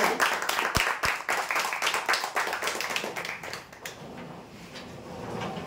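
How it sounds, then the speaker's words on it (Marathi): Audience clapping at a prize-draw event announcing winners, a loose burst of claps close by that thins out and fades toward the end. "जोरदार टाळ्या होऊ द्या।"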